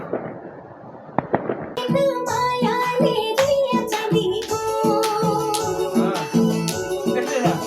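New Year fireworks crackling and popping from a park, a dense, continuous barrage of sharp bangs and crackles after a few isolated pops, fairly loud and sustained.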